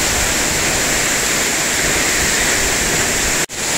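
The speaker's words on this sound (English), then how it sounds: "How's that for a little cascade in amongst the fern forest?" A small waterfall cascade in the fern forest of Springbrook National Park makes a loud, steady rushing roar that stays constant, with one brief dropout near the end.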